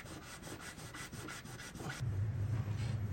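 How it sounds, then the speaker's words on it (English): A magic eraser rubbed back and forth over a collectible game item for light cleaning, giving a quick run of rhythmic scrubbing strokes, close and dry, followed by a steadier low rub. "I've been using the magic eraser mostly since a lot of this isn't so bad to where I'm actually sanding it down"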